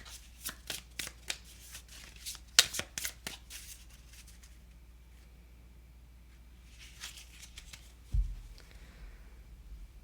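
Quick, close shuffling of a Lenormand card deck with rapid flicking and tapping for a few seconds, then quiet, a softer rustle and a low bump.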